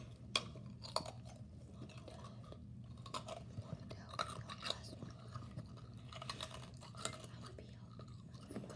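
Ice cubes being bitten and chewed close to the microphone give sharp, irregular crunches over a low steady hum, with soft whispering and breathy voice between bites.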